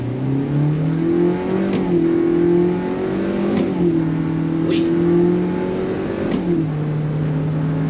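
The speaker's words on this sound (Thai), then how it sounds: "แต่พอเรากระแทกคันเร่งไปเกียร์จะเปลี่ยนลักษณะการทำงานให้เร็วขึ้น" Hyundai Stargazer Smart six-seat MPV engine revving hard under full throttle, pitch climbing then dropping sharply at quick automatic gear changes, loud and steady from inside the cabin with no talking.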